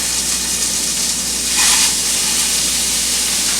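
Oval Salisbury steak patties sizzle in a large skillet, a steady loud hiss of frying that swells briefly midway.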